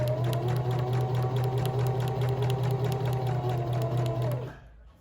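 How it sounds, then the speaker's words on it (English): A sewing machine runs a straight line of stitching with a close, even, steady hum and clatter for over four seconds, then slows and winds down to a stop. "I'm gonna sew a straight line down and slow down when I get to my corner"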